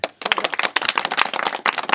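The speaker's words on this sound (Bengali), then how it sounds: "শাহিন ভাইয়ের জন্য জোরে একটা করো তালি" Dense, lively applause from an audience at Reshambari, Shahjadpur, clapping loudly for Shahin; many hands beat fast and close for about two seconds, with a short gap near the start.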